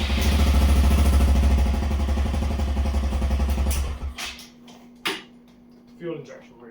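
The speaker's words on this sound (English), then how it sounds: "It's got a fuel injected 125cc engine, really reliable," A fuel-injected 125cc engine on an off-road go-kart idles with a steady, buzzing throb up close for a few seconds, then cuts out, leaving scattered clicks and knocks.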